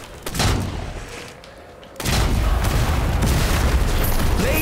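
Gunfire in Strange Brigade comes as heavy booming shots, a couple of punchy blasts early followed by a dense, continuous barrage of loud impacts in the second half.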